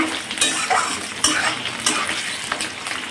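Onions frying in a pan while being stirred, a continuous sizzle broken by repeated scraping strokes of a utensil against the pan at a roughly regular rhythm, close and fairly loud, with no talking.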